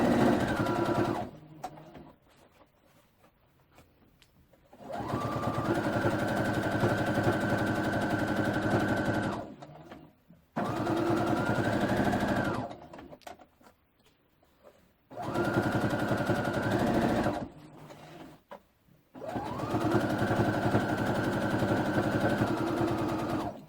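Domestic sewing machine stitching a simple elastic-waist skirt, running in four long steady bursts of fast whirring with short quiet pauses between, close and loud with no talking.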